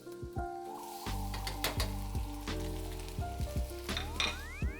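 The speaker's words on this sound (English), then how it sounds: "Dropping about a tablespoon of butter, another tablespoon of olive oil. We're gonna put our shrimp in." Shrimp hit a hot pan of butter and olive oil for fried rice, giving a steady close sizzle with clinks and scrapes of utensils over it and no voices.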